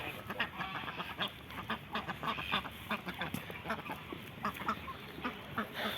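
A flock of geese honks continuously at close range, overlapping calls in a busy, rhythmic clamor with no talking.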